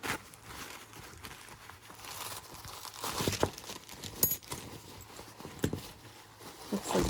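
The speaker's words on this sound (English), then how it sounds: "We will zoom out here a little and unwrap some of these packages." Jewelry packages from a large lot of brooches and bracelets are unwrapped, giving soft, irregular paper crinkling and rustling at close range with occasional sharper crackles and no talk.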